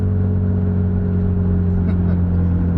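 A Mitsubishi EVO VIII with a new roll stopper runs at high RPM, its engine producing a loud, steady droning hum heard from inside the car, with no clear shift or downshift breaks.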